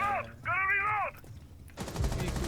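Video game gunfire: after a couple of bright tonal blips, a rough burst of shots erupts and rattles through the final half-second, fairly close and loud.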